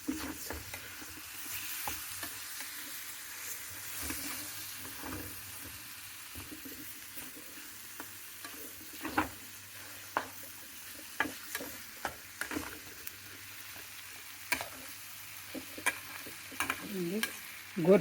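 Cluster bean (goru chikkudu) tempering being stirred in a pan, a quiet continuous sizzle broken by frequent scraping and clicking stir strokes that grow more regular toward the end.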